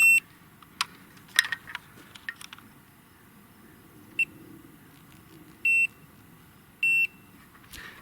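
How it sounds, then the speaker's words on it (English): A laser level detector gives short high-pitched beeps, a few quick chirps, then a couple of longer steady tones spaced apart in quiet surroundings. "Now the detector is just simply a thing that beeps"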